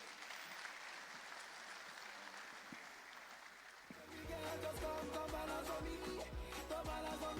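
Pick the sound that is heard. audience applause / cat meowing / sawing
audience applause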